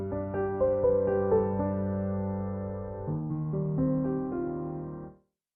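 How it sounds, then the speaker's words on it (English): An upright piano sample on a Nord Wave 2 synthesizer plays a short sequence of chords and melody notes, clean and close, ending with a natural decay into silence. "let's bring in a piano sample first"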